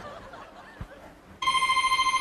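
A telephone rings loudly and steadily with an electronic bell tone, starting abruptly after a stretch of quiet murmuring and a soft thump, during a comedy sketch staged at a festival gala.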